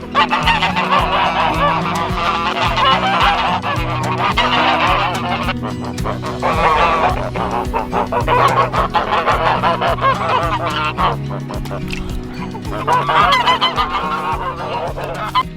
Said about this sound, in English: So the geese seem to be doing well over in the Westfield silvopasture system.